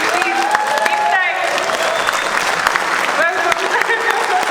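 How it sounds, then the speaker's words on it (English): An audience applauds as Nirmal Purja walks onto the stage, dense sustained clapping with a host's voice speaking over it through much of the stretch. "I want to invite Nimstai on the stage with a big round of applause"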